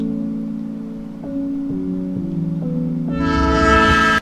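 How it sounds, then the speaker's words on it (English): A train rolls past in a video game, its horn sounding in steady held chords that rise and grow louder near the end before cutting off abruptly. "don't get on the tracks, because we're gonna get hit by a train."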